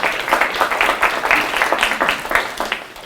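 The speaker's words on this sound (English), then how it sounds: "Definitely give yourself a round of applause for that." A small audience at a literacy program presentation applauds, with close, fairly loud clapping that holds steady for a few seconds.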